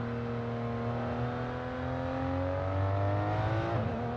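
An Aston Martin race car engine in the F1 22 video game drones steadily and climbs in pitch as it revs at Zandvoort, with a brief dip near the end, loud and close.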